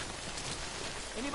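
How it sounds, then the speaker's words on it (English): Steady rain in the Death Stranding game world, a soft continuous patter and hiss of drops falling on surfaces, fairly faint and even throughout. "The rain is currently ruining my cargo."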